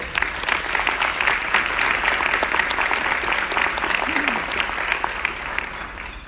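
Sustained applause from a large audience at a women's leadership breakfast, a thick, even wash of clapping that holds at full strength from start to finish.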